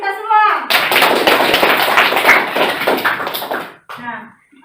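Applause in a classroom, a burst of close, loud clapping from pupils lasting a few seconds, framed by a teacher speaking just before and after.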